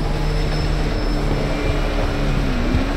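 Propeller airplane engine in GTA 5 with a blown number 2 engine, a steady loud droning hum holding for the whole stretch with no talk over it.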